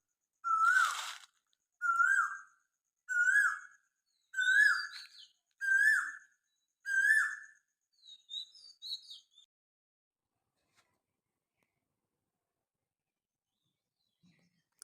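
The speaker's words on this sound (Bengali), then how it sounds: "কোকিল ডাকছে।" An Asian koel calls in a garden: six loud, rising whistled notes evenly spaced about a second apart, followed by a few fainter broken calls and then near silence.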